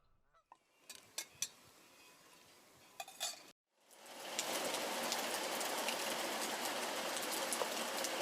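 Heavy rain pours down in a dense, loud, continuous hiss after a few scattered taps and a brief hush, outdoors with no voices.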